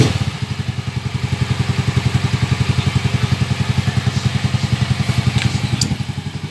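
A Honda Beat scooter idles after a carburetor overhaul: a close, even, rapid putter that holds steady for several seconds and settles slightly toward the end.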